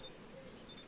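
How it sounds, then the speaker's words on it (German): Faint, sparse bird chirps from a scene in the video game Life Is Strange, a few thin tweets over a quiet background hiss with no talk. "The birds are flocking around Samuel."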